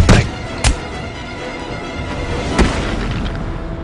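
A wall being blown up in Batman: Arkham City, with a sharp blast at the start followed by two further booming bursts over a steady low rumbling background.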